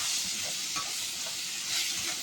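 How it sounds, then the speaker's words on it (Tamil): Drumstick (murungakkai) egg scramble is stirred in sizzling oil in a pan, a close, steady frying hiss with soft scraping of the spoon, no voices. "இதை நான் கலந்து விட்டுட்டு நம்ம நல்லா பிரிஞ்சிச்சு, எண்ணெய் பிரிஞ்சு வந்துடுச்சு"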